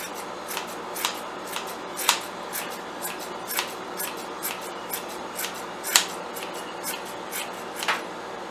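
Scissors snip repeatedly through yarn while trimming a large XL pom pom, crisp cuts recurring at an irregular pace, close and quiet with soft rustling between.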